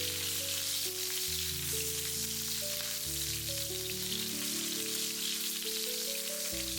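Pork belly sizzling and crackling in a hot wok as it is stir-fried to release its fat, a steady hissing spatter like rain under a droning background tone.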